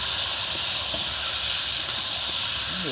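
Mutton hits a hot kadai for handi mutton, giving a strong continuous hiss and sizzle that stays loud and even throughout.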